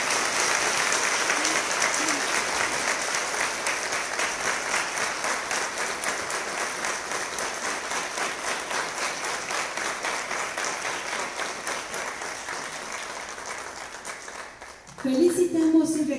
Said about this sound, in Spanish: Reconocemos la gran creatividad y el excelente trabajo de las y los ganadores del concurso de expresión literaria La Juventud y la Mar, con un fuerte aplauso.